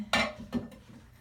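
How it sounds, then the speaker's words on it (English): A lid set onto a pot of soup holding spinach, heard as two quick metallic clinks, the first louder and the second a little softer, close and quiet with no talk. "put the lid on it"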